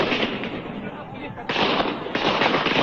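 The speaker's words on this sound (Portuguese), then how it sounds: "Tiros são disparados no meio da rua." A burst of loud, crackling gunfire in the street during a prison riot, a dense and continuous barrage of close shots with no clear gaps.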